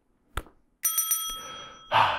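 A bell rung to cue the lightning round on a talk show, a few bright rings with a lingering metallic tone, preceded by a short thump and followed by a burst of noise.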